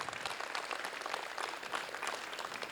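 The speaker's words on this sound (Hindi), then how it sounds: "चलो जी, जो मानता है 16 की एक बार जोरदार तालियां इनके लिए" Steady, sustained applause from a theatre workshop audience, a dense wash of many hands clapping at once with no pauses.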